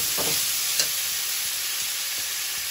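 Crushed garlic, onion, green chili, potato and taro with black cumin fry in hot oil, giving a steady loud sizzle broken by a few soft stirring knocks, with no talk.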